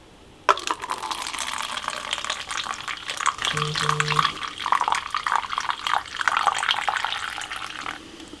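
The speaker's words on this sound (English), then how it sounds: "I call that one the slow pour while getting a notification on my phone." A strawberry drink is poured slowly in a long, steady liquid trickle and fill, with a brief two-note phone notification chime sounding midway through the pour.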